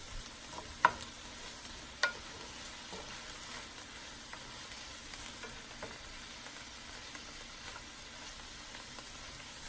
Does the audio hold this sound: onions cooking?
yes